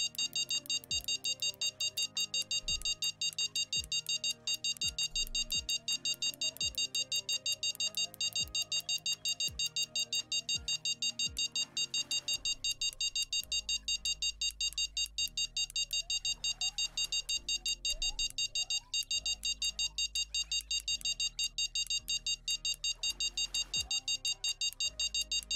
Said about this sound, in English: Beeping. Stop it.